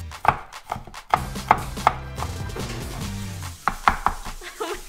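A knife chops an onion on a board in a quick run of sharp, close taps, pausing and then resuming with a few more cuts, with faint kitchen sounds and no talk.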